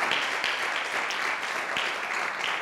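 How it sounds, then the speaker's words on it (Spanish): A church congregation claps and applauds together in a steady, dense burst, loud and close throughout, with no talk over it. "Alguien levanta un aplauso de victoria al Señor."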